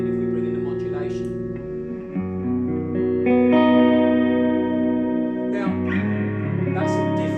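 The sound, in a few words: Strymon BlueSky reverb pedal, plate reverb with modulation added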